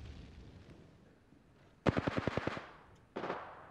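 Automatic gunfire in the shooter game Apex Legends: a rapid burst of about eight sharp, loud shots, a short pause, then a second quick burst, with no talking.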